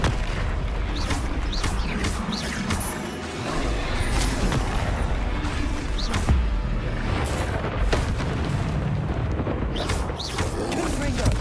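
Fiery Confringo and Incendio spell blasts in the Hogwarts Legacy game: a constant roar of booming bursts and crackling combat effects, with spoken voices woven through the chaos.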